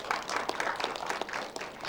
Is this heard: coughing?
no